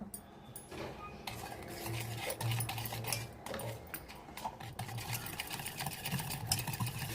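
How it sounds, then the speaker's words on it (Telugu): A wire whisk beating oil, sugar and yogurt into a creamy batter for eggless rava cake, quick rhythmic scraping and clinking against the bowl, steady and close with no talk. "ఆయిల్ వేసుకొని బాగా బీట్ చేసుకుందాం"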